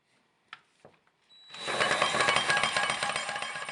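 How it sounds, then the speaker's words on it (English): A drill fitted with a carbide-tipped hole saw runs in reverse to score limestone tile, starting after a few light clicks and handling noises and then grinding loudly and continuously, close by with no talk. "score the tile by running your drill in reverse or counterclockwise"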